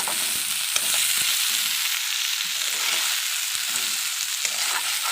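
Potatoes frying in a pan for a Tamil-style potato fry, a steady close sizzle with bubbling crackle and occasional stirring clicks throughout, no talking.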